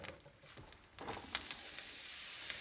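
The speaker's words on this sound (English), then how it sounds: "Now we want to take our mushrooms and put our mushrooms in." Mushrooms go into hot oil in a pan, a few soft clatters and pops as they land, then a steady sizzle rising and holding, close and without talk.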